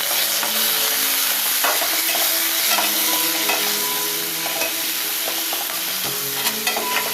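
Onion and tomatoes fry in a pan over a low flame, a steady close sizzle broken by repeated scraping and clinking stirs of the spoon.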